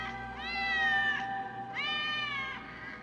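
Cats meow in the video game Batman Arkham City, giving two drawn-out, clear meows in a row, close and distinct with nothing else over them.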